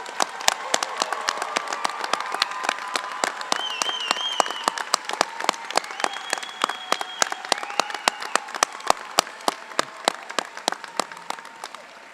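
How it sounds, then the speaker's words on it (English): Graduates of the Clarkson University class of 2023 receive a long round of audience applause at a spring commencement ceremony, steady dense clapping from a large crowd that thins slightly toward the end, with a few faint voices and cheers mixed in. "Let's give them one more big round of applause."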